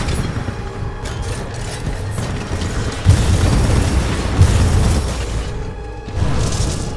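Predator Cannon firing in Titanfall 2, a dense loud roar of rapid heavy shots with booming thuds, sustained across the clip with brief pauses.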